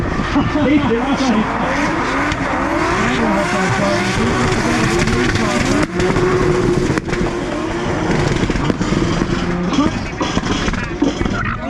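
Drift cars racing at Mondello Park, Ireland, one of them a Toyota, roar continuously with engine noise and tyre squeal, loud and close throughout, with commentary talk running over the top.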